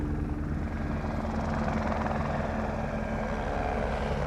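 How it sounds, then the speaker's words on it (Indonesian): A helicopter flies over a mountain area in Switzerland. Its rotor and engine make a steady, loud drone that holds level through the whole clip, with no talking. "Dan kita lihat di depan sana ada helikopter"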